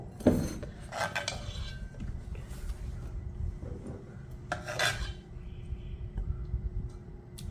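Ground horse gram chutney is scraped from a grinder jar into a bowl: spoon knocks and clinks on metal, a few sharp taps, and rasping scrapes over a low background hum.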